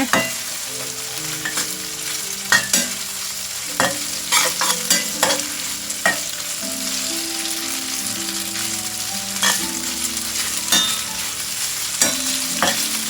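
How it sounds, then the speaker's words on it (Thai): Marinated pork sizzling and frying in a hot stainless steel pan over low heat, with a spatula stirring and scraping at irregular intervals, close up and with no talking. "ผัดหมูหมักหมูนุ่มของเราลงไปก่อนเลยนะคะ"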